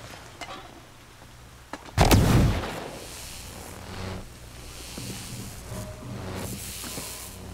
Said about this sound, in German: Granate habe ich ausgewählt. Kann ich die da bouncen lassen?